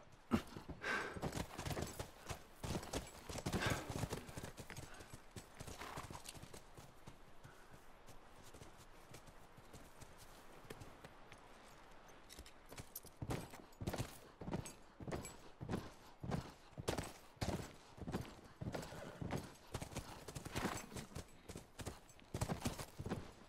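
Horse hooves clip-clop steadily in The Last of Us at a ranch corral in Hidden Pines, a dense run of sharp clopping strikes that eases briefly midway before picking up again, close and fairly loud.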